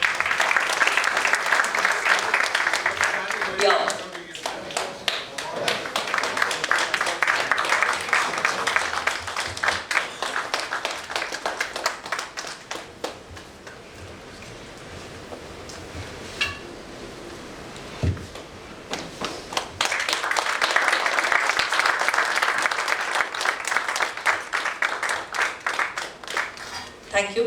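Audience applause greets the chief guest at a one-day technology seminar, broad and sustained clapping that swells at the start, thins through the middle under a brief spoken word, then rises again near the end.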